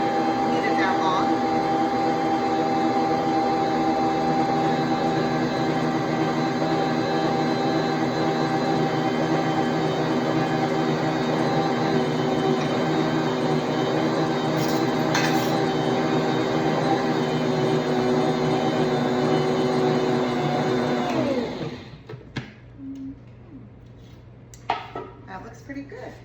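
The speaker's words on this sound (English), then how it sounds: "With this mixer, you really don't need to knead it that long." A stand mixer kneads hot cross bun dough with a steady, loud motor whine and a rhythmic knocking hum that runs unbroken for about twenty seconds, then winds down and stops, leaving a few faint clicks and a voice.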